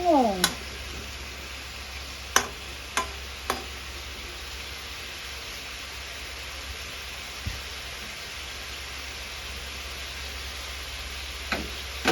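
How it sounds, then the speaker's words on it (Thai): Tofu stir-fried with egg and vegetables in a pan, giving a steady, close sizzle with a few sharp utensil clinks against the pan scattered throughout. "ผัดเต้าหู้"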